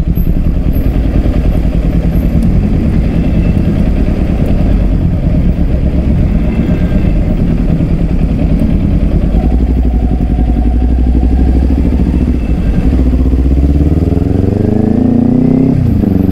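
A Kawasaki Ninja 400 motorcycle ridden on the road, its engine droning steadily with wind rush, then rising in pitch as it revs up near the end.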